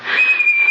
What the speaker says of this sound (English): Oh, that's just the kettle.